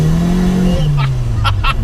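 A Ford RS Turbo engine pulls hard and loud up through second gear, droning steadily with a few sharp higher chirps near the end.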